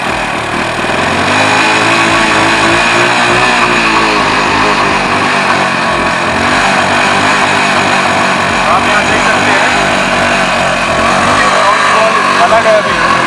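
A motorcycle engine rigged to run with a separate fuel bottle starts and keeps running at a steady, loud drone for the whole stretch. Someone talks over it throughout.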